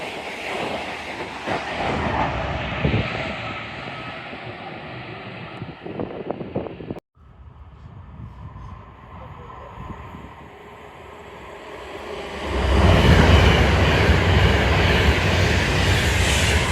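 Trains passing through Watford Junction station in Hertfordshire, a broad rumbling roar that fades after a brief cut and then builds again louder, with no one talking.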